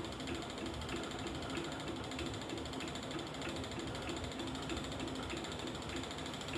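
Spinning wheel treadle and mechanism turning steadily while spinning an alpaca and angora blend, a continuous close rattle and creak with a faint regular pulse.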